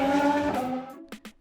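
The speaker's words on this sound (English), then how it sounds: "Race car." A cartoon race car zooms past with a loud, buzzing engine roar that fades out over about a second, followed by a couple of short thumps.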